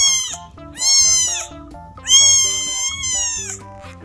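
A kitten meows three times up close, drawn-out, high and piercing, with short pauses between the cries.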